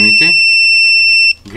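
A cheap continuity tester board module connected to a cable gives a steady, high electronic beep that sounds for over a second, with a brief spoken voice just before and after it.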